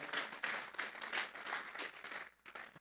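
A church congregation applauding during a sermon, dense sustained clapping from many hands that holds steady before tapering off near the end, with no speech over it.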